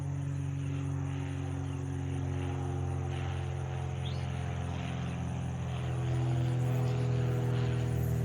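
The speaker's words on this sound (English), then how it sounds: "Airplane's flying low." A low-flying airplane drones overhead above a backyard vegetable garden, a steady, fairly loud rumble whose pitch slowly shifts and swells toward the end, with faint insect chirps underneath.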